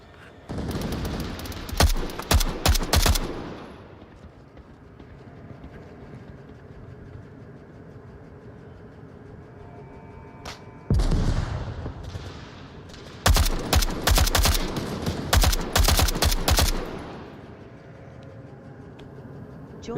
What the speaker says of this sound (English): Gunfire. Northeast.